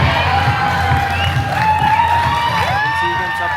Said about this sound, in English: Guys are cheering Tegan on